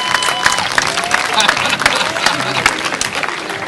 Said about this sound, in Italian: l'applauso va a Miranda Arnosti